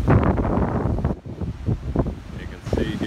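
Storm winds of about 55 mph, with stronger gusts, roar and buffet the microphone loudly and continuously, dipping briefly before surging again.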